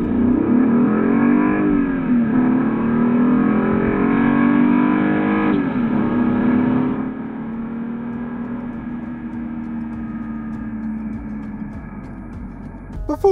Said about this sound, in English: let's have a look at what this 0 to 60 time is actually going to be in this car